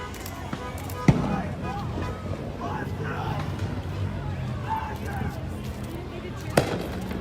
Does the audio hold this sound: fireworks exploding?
yes